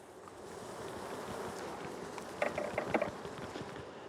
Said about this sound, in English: there's no way I could get them in there with all those bees hanging off